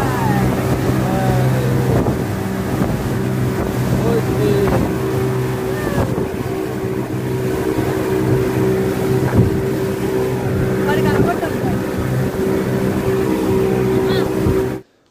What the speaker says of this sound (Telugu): స్పీడ్ బోట్లో ఎక్స్పీరియన్స్ అయితే చాలా ఫాస్ట్గా వెళ్తారు